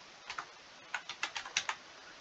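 Typing on a computer keyboard while entering a name into an account signup form: a short burst of about eight light, quick key clicks in two groups, close and quiet, with no talk.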